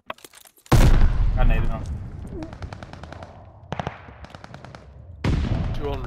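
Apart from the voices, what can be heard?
gunfire in a video game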